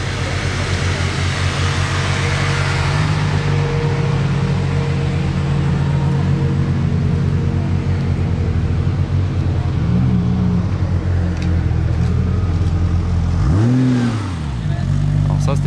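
A Ferrari Monza SP2 leading a convoy of Bugatti Chiron supercars, steady loud engine roar with rising revs and a passing sweep near the end, with voices talking over it.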